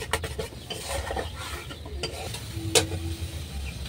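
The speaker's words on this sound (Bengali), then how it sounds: "এরপর আমি ভালো করে নাড়িয়ে নিব।" A spoon works through tamarind chutney in a pan, producing repeated scraping strokes over a soft bubbling sizzle, close up with no speech.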